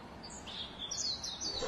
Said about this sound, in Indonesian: Burung merak.